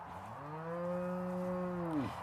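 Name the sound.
chestnut cow mooing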